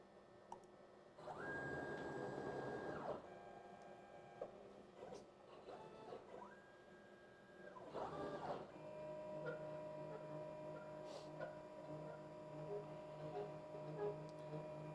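A CNC plasma table on a dry run, its gantry motors whining in steady rising and falling bursts as the axes move, with mechanical ticks and a continuous hum between moves, fairly quiet and alone.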